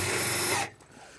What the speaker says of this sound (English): So Rex has got a self-tapping screw here. It's going right through there